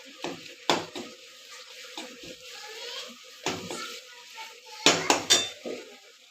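A spoon stirs Everest masala in a metal pan, giving sharp clanks and scrapes that come in irregular bursts with quiet gaps between them. A light sizzle runs underneath, and several clustered knocks come near the end.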